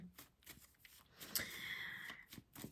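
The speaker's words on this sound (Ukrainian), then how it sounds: "З кожної колоди я витягую по три карти" Soft rustling and sliding of tarot cards being drawn from three decks, with a few light snaps and flicks, close and quiet.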